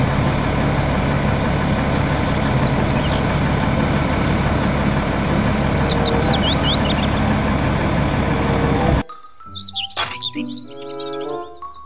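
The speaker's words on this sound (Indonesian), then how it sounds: "Mobil truk pasir." A sand truck engine idles with a steady, rumbling drone for about nine seconds while birds chirp faintly in the background, then cuts abruptly to other brief sounds.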